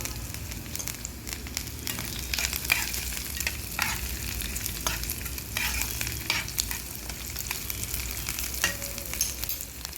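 Dried red chillies and curry leaves fry in hot tempering oil, giving a soft, even crackle and sizzle with faint stirring clicks and no talk.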